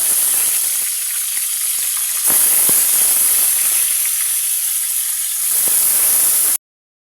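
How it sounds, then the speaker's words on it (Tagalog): Fish frying in hot cooking oil gives a loud, steady sizzle with a bright hiss and scattered crackles that runs nonstop, then cuts off abruptly into silence near the end. "Ato nang ibutang ang isda nga pirituon."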